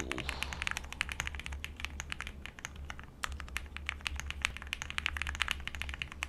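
Rapid clacky keystrokes on a custom mechanical keyboard, close up, in quick irregular bursts with a brief pause midway and no talking.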